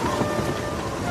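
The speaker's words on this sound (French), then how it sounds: "C'est le Meltem, le vent de nord-est." Meltem northeast wind at sea aboard a sailboat, a constant loud rushing and buffeting against the microphone with no voices, steady for the whole short stretch.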